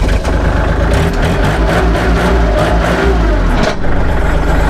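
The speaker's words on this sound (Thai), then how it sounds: "ฟังเสียงเครื่องยนต์นะครับ" A 2016 Kubota L3608 farm tractor at a used-machinery market runs steadily at idle, a loud, close diesel drone that holds evenly throughout with a brief dip near the end.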